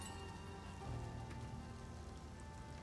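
Rain of Arrows skill effect in a video game, a dense pattering like arrows or rain hitting a surface, steady and continuous throughout, fairly quiet with no talking.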